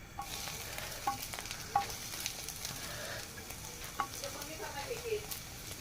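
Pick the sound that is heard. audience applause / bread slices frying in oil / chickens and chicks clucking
bread slices frying in oil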